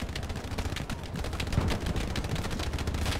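Repeated sniper rifle and other gunfire in a first-person shooter video game firefight, dense rapid shots with a heavier report in the middle, loud and continuous over about three seconds.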